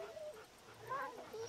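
Sick dogs in the video game Wasteland 2 whimper with faint, thin high whines that rise and fall over quiet background murmur and soft talk, the cries close but weak.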